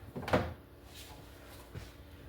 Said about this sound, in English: I can't get these drawers out.